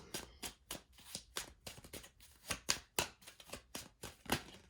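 A deck of tarot cards is shuffled close up, giving quick, crisp riffling flutters and soft slaps in an uneven rhythm, quiet and alone.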